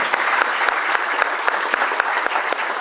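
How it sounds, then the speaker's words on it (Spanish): An audience at a talk gives a dense, even round of applause, many hands clapping continuously at a steady loud level throughout. "Un aplauso, por favor, al esfuerzo"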